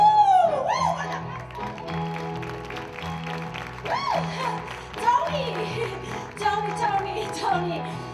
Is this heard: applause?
yes